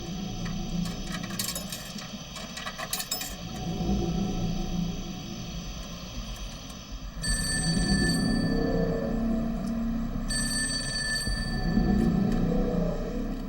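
A telephone rings in a call from a phone booth, electronic ring bursts repeating at intervals over a murky low hum and dramatic background sound.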